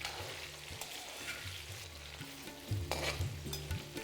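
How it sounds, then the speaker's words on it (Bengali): Batches of chicken frying for Bengali chicken kosha, stirred in hot oil, with a steady close sizzle and low scraping knocks of the spatula that grow louder toward the end. "ব্যাচ ওয়াইজ এটাকে ভেজে নেব।"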